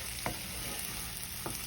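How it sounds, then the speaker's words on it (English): Half an onion sautéing in a pan, a steady soft sizzle with two brief scraping stirs, fairly quiet and close. "So we're gonna get all this sauteed down"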